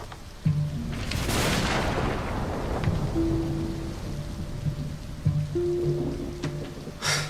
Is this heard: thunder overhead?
yes